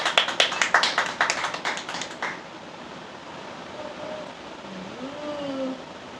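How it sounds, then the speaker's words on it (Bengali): A quick run of about a dozen sharp hand claps, close and fairly loud, lasting a couple of seconds before stopping abruptly, followed by a quiet background with faint tones and low murmuring. "এক হাততালি দাও ফুটেজ হাততালি দাও"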